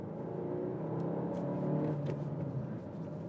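A car engine in second gear at about 3,000 RPM is floored, giving a steady, moderately loud droning hum that climbs slightly as the car accelerates, with no talk over it.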